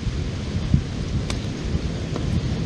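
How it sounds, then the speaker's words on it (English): Wind picks up at a campsite in the woods, a steady, fairly faint rushing and gusting noise with a few small knocks and clicks, and no one speaking. "Hear that wind picking up."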